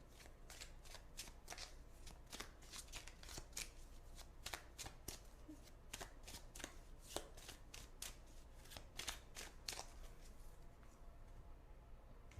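Oracle cards are shuffled by hand in rapid, crisp bursts of riffling and slapping that repeat steadily throughout, close and fairly quiet, with no talking.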